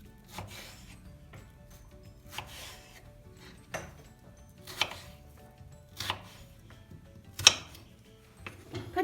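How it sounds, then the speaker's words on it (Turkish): Steady knife chops cubing potatoes on a cutting board, spaced about a second apart, with soft handling sounds in between; no talking. "Patateslerimizi küp küp doğrayacağız."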